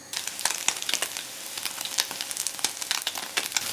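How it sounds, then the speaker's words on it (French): Broccoli fries in a little oil in a pan, a close, steady crackling sizzle with dense irregular pops throughout and no voices. "je les mets simplement dans un peu d'huile à la poêle"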